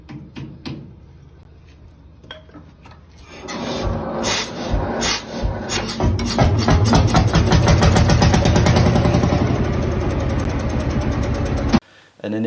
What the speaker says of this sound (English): Compression comes into action and ignites that diesel